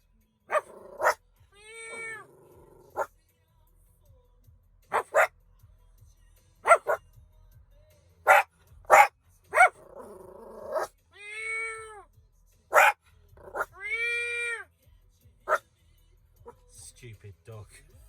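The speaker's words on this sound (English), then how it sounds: "Stupid dog." A dog barks in short separate bursts between pauses, at close range, along with whining or meow-like yelps, and someone speaks briefly.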